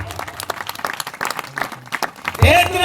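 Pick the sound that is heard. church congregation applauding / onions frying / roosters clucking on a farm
church congregation applauding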